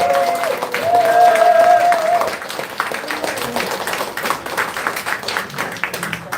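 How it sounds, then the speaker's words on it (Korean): An audience at a Korean political endorsement event for a People Power Party candidate in Seongnam Sujeong claps in a steady patter that swells early, then thins, with a voice speaking over the start. "다시 한번 뜨거운 큰 박수 부탁드리겠습니다"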